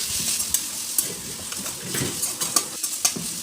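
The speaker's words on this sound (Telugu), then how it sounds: "బాగా నూనెలో మగ్గేంత వరకు మామిడికాయ తురుము ఇలా కలుపుకుంటూ ఉండాలి" Grated raw mango fries in oil in a pan while being stirred, giving a steady hiss of sizzling broken by scraping and light metallic taps of the spoon against the pan.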